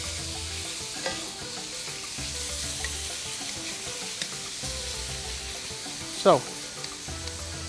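Beef sizzles and fries steadily in a hot pan for a beef and sweet potato stir fry, a continuous close crackling hiss with a brief louder clatter near the end and a single short spoken word.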